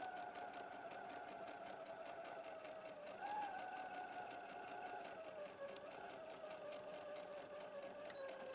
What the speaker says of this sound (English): we're just going to sew the second into place.